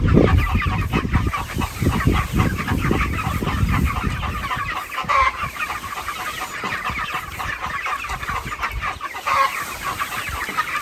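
Homestead chickens cluck and squawk close by while following a moved chicken tractor, a busy overlapping chorus of clucks running throughout, with low rumbling and scraping from the tractor being dragged early on.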